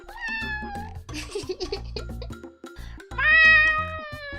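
A person mimics a cat meowing, producing several drawn-out, tonal meows in a row with a louder, sustained final one, close to the microphone.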